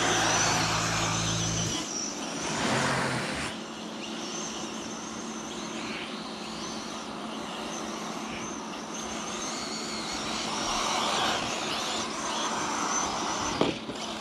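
Team Corally Radix4 and Arrma Talion 6s RC cars race on a track, their electric motors whining steadily and loudly for the whole stretch, with a brief dip early on and no talk over it.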